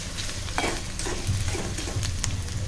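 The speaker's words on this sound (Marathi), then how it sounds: "कांद्यामध्ये आपण कोथिंबीर फोडणीत फ्राय करून घेतली ना तेलात" Onion and coriander frying in hot oil for a Malvani mutton rassa, a soft continuous sizzle broken by scrapes and clinks of stirring, close and moderately quiet.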